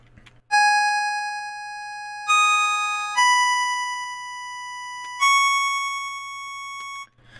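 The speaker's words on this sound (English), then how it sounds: "I'm just pushing the keys on my computer keyboard and it is making the synthesizer play the notes." A software synthesizer in Reaper, triggered from a computer keyboard through the Virtual MIDI Keyboard, plays four clean sustained electronic tones one after another, each starting sharply and fading slightly while held, with no voices present.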